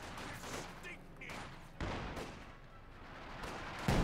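Machine gun fire in the Company of Heroes 2 strategy game, faint and distant bursts with a couple of sharper cracks breaking through a low, muddy battle ambience, alongside indistinct voices.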